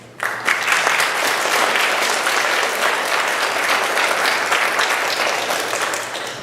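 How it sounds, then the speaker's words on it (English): Audience applause for candidates at a community candidate forum, a dense, steady wash of many hands clapping that starts abruptly and holds at full strength before tapering slightly at the end. "A party round of applause for being here, for participating, and for volunteering to take on an important and difficult role in our community."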